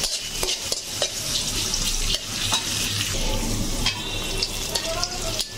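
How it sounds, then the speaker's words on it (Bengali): Chopped onions sizzle in oil in a pan, a dense continuous fry close by with frequent scraping clatter as they are stirred. "আমি পেঁয়াজগুলো হালকা বাদামি রং করে ভেজে দিব"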